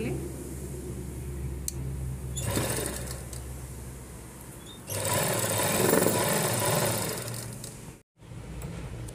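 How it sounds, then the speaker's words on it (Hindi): Sewing machine stitching the shoulder seam of a midi dress, a steady close mechanical whir running through the clip, rising louder in the second half with a brief stop near the end. "आप दूसरा शोल्डर सिलाई कर लें।"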